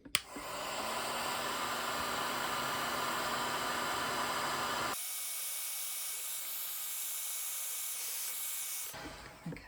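Heat is applied to a solder joint on motorbike indicator wiring, a steady, airy blowing hiss like a hot-air tool that drops in tone midway and cuts off near the end.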